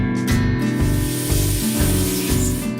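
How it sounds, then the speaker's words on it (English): A CNC machine milling a Woodpeckers Pocket Compass XL in a production shop gives a continuous loud hiss of cutting and coolant spray with a low humming drone underneath, close and unbroken. "Here, we're milling the XL version over at one of our state-of-the-art CNC machines."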